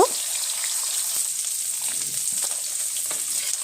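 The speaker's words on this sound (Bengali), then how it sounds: "তো এখানে আমি মাছটা ভেজে নেব।" Tilapia fish pieces fry in hot oil in a home kitchen, making a continuous close sizzle with scattered small pops and spatters. The hiss stays steady throughout and no one speaks.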